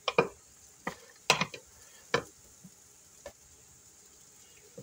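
Food mixture with Frank's hot sauce being stirred in a bowl, giving a handful of scraping, wet clacking strokes at irregular intervals, close and fairly quiet.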